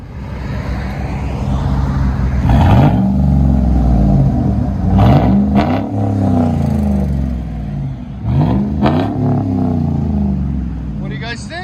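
A 2011 Chevy Suburban Z71 with a 5.3L V8 and straight-pipe exhaust, muffler and resonator cut off, revs hard three times in loud, rising-and-falling bursts, each settling back to a deep rumbling idle, close up.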